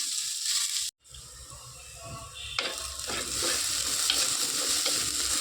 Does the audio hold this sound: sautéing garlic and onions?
yes